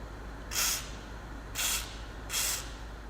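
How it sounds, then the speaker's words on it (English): Three short, evenly spaced aerosol bursts of WD-40 spray onto a wiper-arm bolt during a Jaguar S-Type restoration, each a soft close hiss about a quarter-second long over quiet room noise. "I'm gonna make the job a little bit easier by applying WD-40 onto this bolt."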